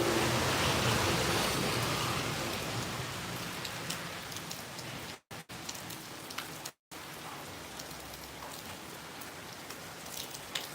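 Heavy summer rain pours steadily in a dense, loud hiss, falling on surfaces nearby and continuing without break apart from two brief dropouts.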